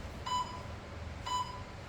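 Two short electronic beeps from a workout timer in a home garage gym, about a second apart, clear and moderately near over a faint background hum.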